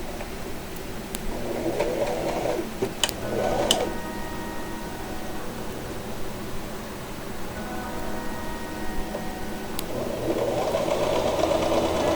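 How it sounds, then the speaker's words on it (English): A sewing machine stitching through four layers of thick fabric for a corset belt, running steadily for several seconds with a close mechanical hum and clicks. "I can just feel the machine just really struggling against the thicker fabric"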